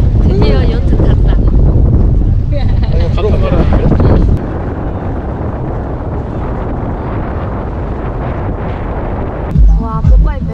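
A yacht under way off Malta, with heavy wind buffeting the microphone and a steady rush of water against the hull throughout, loud and close, while voices talk over it in the first seconds.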